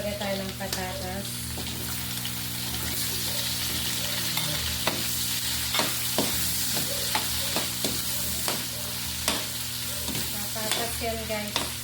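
Adobo with potatoes is stirred in a sizzling pan, a constant loud frying hiss broken by frequent scraping and clacking of the spoon against the pan, with a steady low hum underneath.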